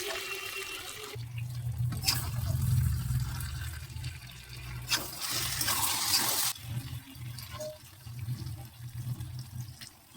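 Water pours from a vessel into mutton curry cooking in a kadai, a close gurgling splash and rush in bursts that fades between pours, with faint kitchen clatter and no talk.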